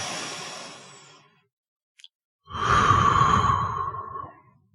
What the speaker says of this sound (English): Breathe deep.